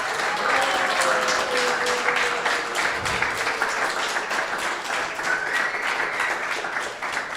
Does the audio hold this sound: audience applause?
yes